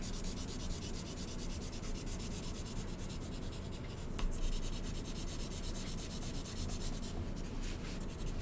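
A pen rubs lightly back and forth across paper while coloring in a fish drawing, a close, continuous scratchy swishing with a steady fine rhythm and no talk.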